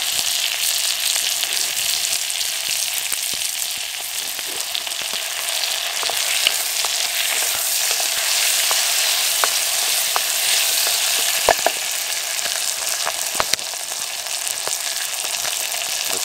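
Onions frying in a pan on an outdoor camp setup, a steady dense sizzle with crackling pops running continuously and fairly loud, no voices over it.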